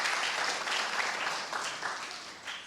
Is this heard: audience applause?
yes